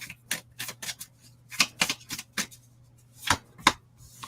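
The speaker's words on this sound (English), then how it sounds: "Helps if you shuffle properly." Tarot cards being shuffled by hand at close range, a run of crisp, irregular riffling and slapping bursts with brief pauses, with no voice over them.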